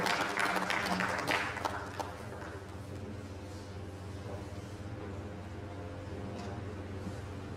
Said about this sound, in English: Round of applause as it comes to the podium.